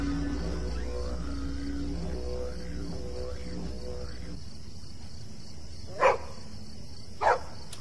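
Dog barking in a horror radio play set outside a garden wall by a street: two short, sharp barks about a second apart near the end, following a stretch of spoken narration.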